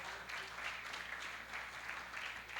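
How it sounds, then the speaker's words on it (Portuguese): A church congregation claps during a vigil service, a soft, distant wash of many hands clapping in uneven waves, low in level throughout. "uma salva de palmas ao Senhor"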